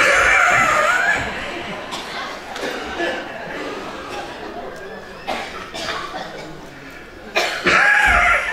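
Several people cough in scattered bursts during a laughter exercise lecture in a large hall, some near and loud, mixed with breathy chuckles and voices in the background.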